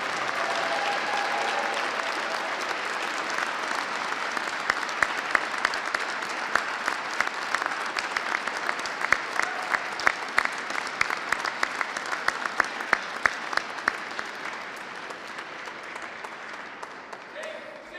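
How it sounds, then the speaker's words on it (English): An audience at a police medal and promotion ceremony applauds the promotees: sustained, full-room clapping for about fifteen seconds, with sharper individual claps poking out before it thins and tapers off near the end. "Ladies and gentlemen, can we get a round of applause for all of our promotees?"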